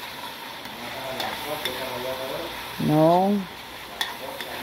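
Ginger and pork browning in a pan for adobo with bamboo shoots, a steady sizzle under a brief voice, with one louder clattering stir partway through.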